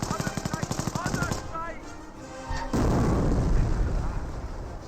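A mortar round bursts near a machine-gun team in the World War II strategy game Company of Heroes 2, a sudden loud boom with a rumbling tail, after a stretch of rapid rhythmic machine-gun fire.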